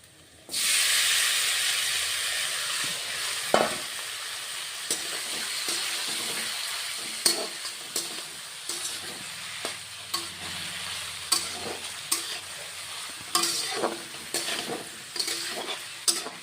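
Mixed vegetables for a small-fish jhal chorchori sautéing on low heat, a continuous close sizzle and hiss after they hit the hot oil, broken by repeated scraping and clacking strokes of a spatula stirring the pan, with no voices.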